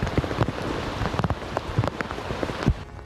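Heavy rain falling in northern Japan, a dense continuous patter of drops striking surfaces, with sharper individual splats scattered throughout and no voices.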